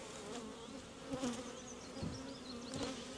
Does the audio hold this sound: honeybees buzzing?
yes